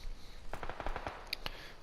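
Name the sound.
gunfire in the video game PUBG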